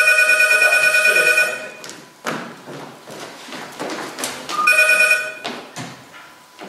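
A telephone rings loudly in two bursts of rapid electronic trilling, separated by thumps and rustling movement nearby.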